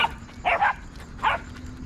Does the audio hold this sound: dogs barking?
yes